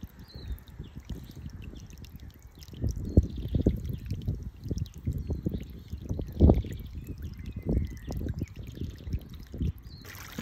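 Water from a hose and a tank pours through a scale hydraulic model of a pond weir and fish pass, a continuous trickling, splashing flow that swells into louder surges from about three seconds on, heard close with no voices.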